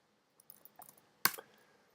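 Typing on a computer keyboard sounds as a few sparse, quiet key clicks followed by one sharper, louder keystroke cluster in an otherwise quiet room.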